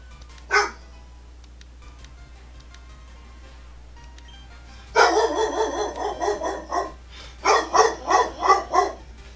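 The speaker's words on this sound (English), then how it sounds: "Lola, what are you barking at?" Dog barking indoors, one short bark, then a pause, then a run of repeated loud barks close by, with a faint steady hum underneath.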